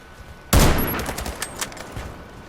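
Sniper fire in the shooter game Warface during ranked play, a single loud, sudden blast followed by a rolling echoing tail and scattered crackles that fade over two seconds.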